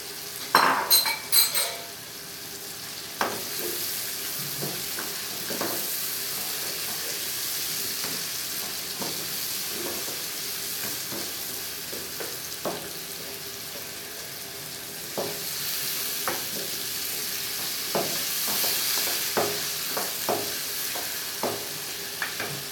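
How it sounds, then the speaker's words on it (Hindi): Meat fries and sizzles in a pot for palak gosht, with a continuous hiss and a regular series of spoon scrapes and clinks against the metal as it is stirred, with no voices. "अब गोश्त डालना है, गोश्त डाल के भुनाई करनी है इसकी।"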